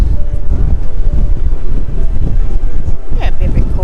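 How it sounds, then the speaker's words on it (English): Strong wind buffets a moving boat in Antarctic waters, a steady loud roar of gusts with engine and water rumble underneath, and a voice talks briefly over it. "As soon as we start moving again, the wind comes up again."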